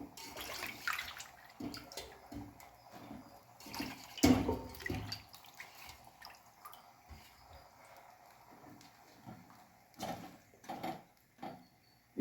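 Tamarind water splashes and trickles into a pot of kara kuzhambu in uneven bursts, with faint clinks and a louder slosh partway through, no talking.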